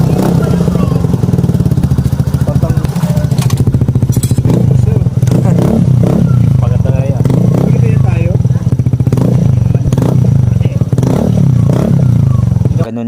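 A Suzuki Burgman Street scooter fitted with an aftermarket full system exhaust muffler idles and is blipped, giving a deep, close, throbbing exhaust note with several rev rises, while someone talks over it.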